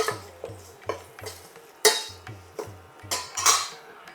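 Spoon scraping and clinking against a pan while tempering with added salt is stirred, a steady rhythm of about ten light strokes with a low hum underneath.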